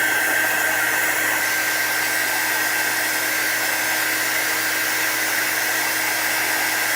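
A hair dryer blows steadily at close range, drying a chalk-painted citrus coaster, with an even whine and airy rush that stays constant with no speech.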